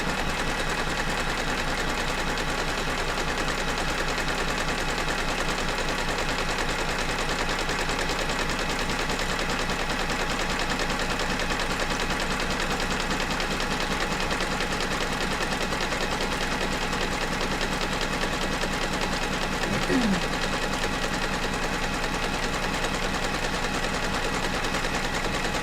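A quilting machine stitching on a feathered quilt design, running in a steady, dense mechanical whir that continues unbroken throughout, with no voices.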